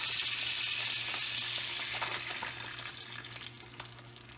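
Food frying in butter and bacon grease in a cast iron skillet, a soft, steady close sizzle with light scraping touches under a low constant hum, fading slightly toward the end, with no voices.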